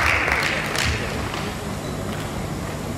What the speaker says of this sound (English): Give applause for all the panelists and the moderator.